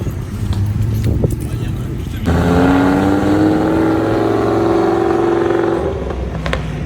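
Cars pulling away from Place Vauban in Paris, including an old Ferrari, a Rolls-Royce Corniche and a Ford: engines idle, then one revs up into a loud rising pull that holds for several seconds before easing off, with talk over it.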